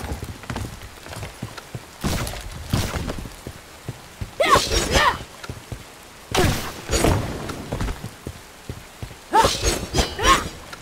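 Rain in the video game Bright Memory: Infinite, spattering and drumming in uneven bursts, with footstep-like thuds and clattering hits mixed through the downpour.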